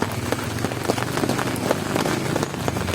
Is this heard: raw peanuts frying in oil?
no